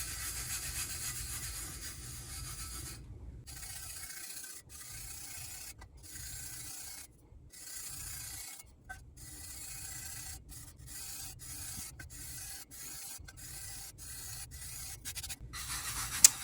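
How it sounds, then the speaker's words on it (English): A hand rubs and burnishes a water slide decal onto a tumbler, giving a steady, quiet, close scraping friction that runs continuously with brief gaps, no talk. "Now we're gonna burnish."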